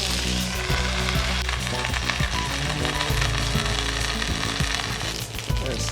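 Chicken pieces frying in a pan for colonial curry, browning until golden, give off a loud, steady sizzle that runs close and unbroken for the whole span, with a few small stir and scrape ticks on top.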